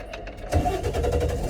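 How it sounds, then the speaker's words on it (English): A truck engine cranking and catching, with a short starter whir followed by the engine turning over into a steady, close idle rumble. "And start your truck."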